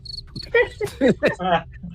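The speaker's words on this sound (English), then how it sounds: "Why are there crickets down here?" Crickets chirp close by in a lower underground space, several quick bright bursts in an irregular run.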